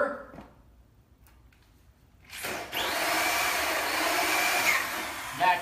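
After a quiet stretch with small knocks, a power drill whirs steadily into wood for a few seconds, loud and close, then stops.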